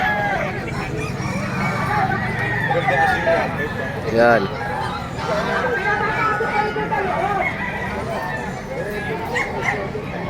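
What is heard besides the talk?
roosters crowing at a pet market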